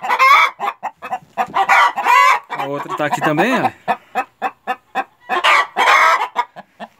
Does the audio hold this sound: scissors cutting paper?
no